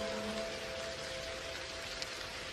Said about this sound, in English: The raindrops are gently dancing on the exterior of your pod.